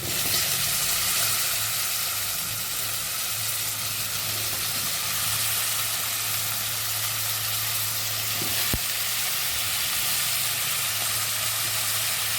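White brinjal pieces soaked in salt water sizzle steadily in a hot pan for a tomato curry, a continuous close frying hiss with a brief stir or clink partway through, no voices.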